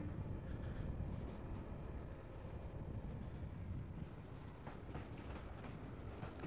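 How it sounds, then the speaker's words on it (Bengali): A Vande Bharat express train passes a railway gate, giving a steady, fairly distant rumble with faint rail clatter and wind noise throughout, no talking. "বন্দে ভারত। ফার্স্ট টাইম দেখলাম আমি সামনে সামনে।"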